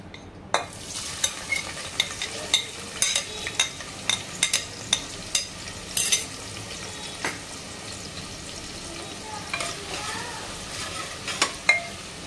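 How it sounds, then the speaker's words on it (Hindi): Onions frying in about two cups of hot oil for a mutton and bottle gourd curry, a steady close sizzle broken by regular scraping knocks of stirring, without talk. "अब हम इसमें प्याज डालेंगे।"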